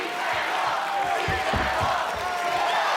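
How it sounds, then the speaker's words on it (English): A dense crowd roars and cheers continuously at an American Ninja Warrior finals course in Los Angeles, loud and sustained throughout, with shouts and whoops rising out of the wash of noise as a competitor takes on the warp wall. "These fans are cheering for Kretsch like he's Fivers."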